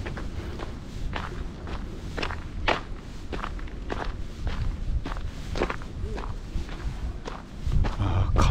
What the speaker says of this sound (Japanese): ちょっと走ってみた。